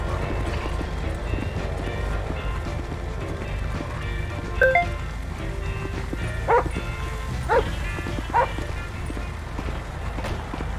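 A police dog barks a few times in short separate bursts during a roadside vehicle search in GTA V, set against a steady background rumble with faint talk.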